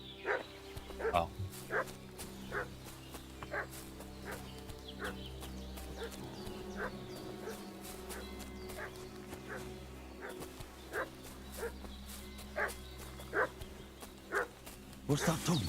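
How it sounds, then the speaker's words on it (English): Dog barking in short repeated bursts at a distance through a medieval village setting in Kingdom Come: Deliverance 2, scattered irregularly over a steady low ambient hum. "What's that dog making such a fuss about?"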